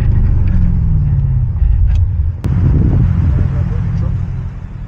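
A turbocharged BMW M8 engine pulls hard while driving, a loud rumbling drone with rising turbo whine, heard from inside the car as people talk over it.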